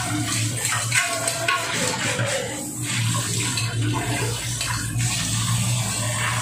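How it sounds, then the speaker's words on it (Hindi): Water runs steadily over a greasy steel container as it is rinsed clean at a tap, a continuous splashing wash with faint clinks, close and alone with no talk. "धो लेते हैं"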